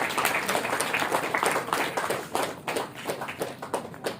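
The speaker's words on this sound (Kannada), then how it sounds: "ಒಂದ್ಸಲ ಜೋರಾಗಿ ನಮ್ಮ ಭೈರವಿ ಅವರಿಗೆ ಚಪ್ಪಾಳೆ ಕೊಡಿ." Audience applause at a Women's Day celebration by a women and children's welfare organisation: a burst of many hands clapping, fairly distant, fading into looser scattered claps.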